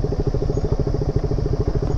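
A KTM RC 200 motorcycle rides off-road, its engine throbbing in a fast, even pulsing rhythm, loud and close throughout.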